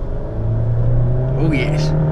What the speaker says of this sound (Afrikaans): Kom ons versnel tot die spoed van die verkeer